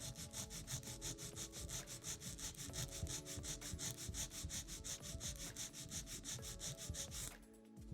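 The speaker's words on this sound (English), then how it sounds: "file the nail straight out from the nail groove on the right" A hand file shaping an acrylic nail, rapid regular rasping strokes straight out from the nail groove, close and continuous with an even rhythm, stopping just before the end.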